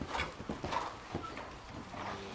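Horse hooves beating on an arena surface during Galop 7 dressage training, heard as a steady rhythmic clip-clop at moderate distance.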